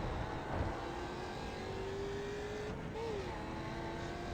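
A Mustang FR500S production race car in iRacing at Snetterton drones steadily at sustained engine pitch, a tone that dips and rises briefly near the end as if shifting or braking, with no talking.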